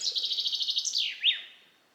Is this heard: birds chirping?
yes